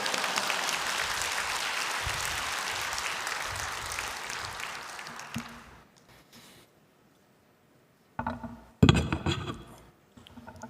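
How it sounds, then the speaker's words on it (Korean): Church congregation clapping to welcome a missionary from Kazakhstan, a dense burst of applause that fades away around the middle, followed by near silence and then a few scattered thumps and knocks. "우리 박수로 환영하겠습니다"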